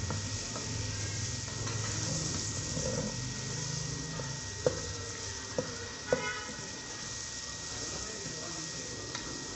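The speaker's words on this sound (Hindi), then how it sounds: "चिकन इसके अंदर भुना जाएगा।" Chicken sizzles steadily while being fried in masala and ghee, a soft continuous crackle and hiss with a few sharp clinks of a spoon against the pan partway through.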